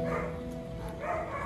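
At a police dog show put on by the Carabineros, a dog gives a couple of faint, muffled barks heard at a distance over a low background hum.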